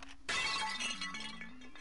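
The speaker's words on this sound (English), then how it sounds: "breaking pottery would definitely be something you'd hear" Pottery breaking, a sudden loud crash followed by a brief scatter of rattling shards against a faint background hum, with no voices.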